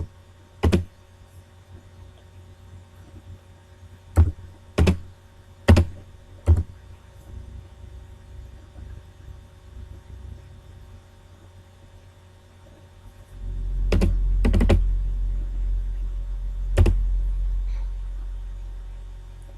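Computer keyboard typing while entering a tax ID number into an online form, heard as a few sharp, separate key clicks close by, then a louder low rumbling stretch with a couple more clicks.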